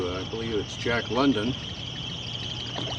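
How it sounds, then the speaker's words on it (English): A device meant to keep pigeons away emits a steady, high-pitched electronic squeal across a square with a statue, continuous throughout and partly under someone talking nearby. "if that sound is some sort of a device to keep the pigeons away"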